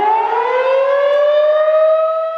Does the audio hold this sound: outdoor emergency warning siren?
yes